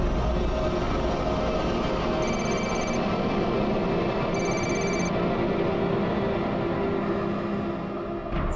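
A telephone rings indoors in short repeated electronic trill bursts, fairly faint over a steady background hum, with no talking.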